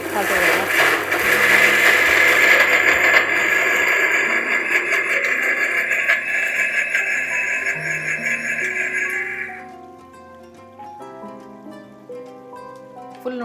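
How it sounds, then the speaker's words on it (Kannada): A mixer grinder blending mint juice whirs loudly, its high motor drone holding steady for several seconds before cutting off, followed by quieter rattling. "ಈಗ ಇದನ್ನು ಮಿಕ್ಸಿ ಮಾಡಿ"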